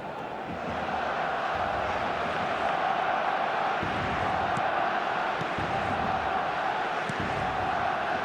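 Stadium crowd in eFootball 2026 gives a sustained roar of applause and noise, steady and broad from start to finish at a European club match.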